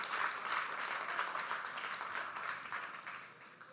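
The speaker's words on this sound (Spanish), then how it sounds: "denle un aplauso al Señor, claro que sí" A congregation applauds during a Spanish-language church worship service, a steady, dense wash of clapping that holds for several seconds before easing slightly.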